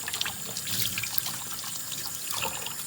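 Tap water trickles and splashes over chickpeas being rinsed for hummus, an uneven close stream with small bursts of spatter and no talk.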